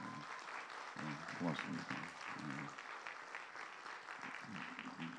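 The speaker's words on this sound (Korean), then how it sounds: "격려 박수 한번 좀 부탁드려요" A church congregation claps in encouragement during a special prayer meeting, moderate applause rising and falling under a speaking voice that carries throughout.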